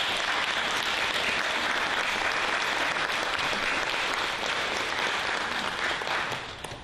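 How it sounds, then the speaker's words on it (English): Broad audience applause for students' families at a program showcase, a dense, even roar of many hands clapping that holds steady throughout and tapers slightly at the very end. "let's give a round of applause"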